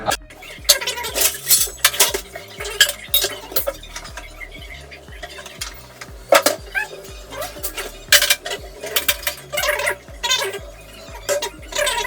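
Flour mixed with salt and spices in a home kitchen gives steady rhythmic clinking and scraping of a vessel, with repeated knocks close by and no voices.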